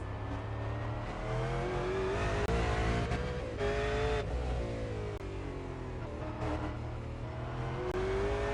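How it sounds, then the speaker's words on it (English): V8 race cars roar around a circuit in a main race, several engines revving and passing close and loud in continuous overlapping waves, with no talk over them. "there's cars going everywhere"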